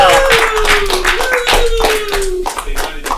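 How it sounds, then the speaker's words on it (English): A comedy show audience claps for a comedian in a quick, steady run of close hand claps, with a long sustained whoop or cheer riding over them and a few scattered voices. "Give a round of applause for Anthony Bonazzo."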